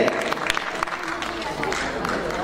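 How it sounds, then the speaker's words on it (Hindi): Audience applause at a literary award ceremony, a dense patter of many hands clapping, steady and moderately loud for a couple of seconds with a voice faintly mixed in. "एक बार तालियों के साथ हम अभिनंदन करें।"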